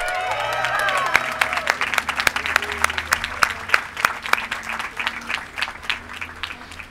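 A crowd at a Hollywood Walk of Fame ceremony honoring Los Angeles Philharmonic conductor Gustavo Dudamel applauds steadily. Dense, sustained clapping with sharp individual claps punctuates the whole stretch, with some voices mixed in.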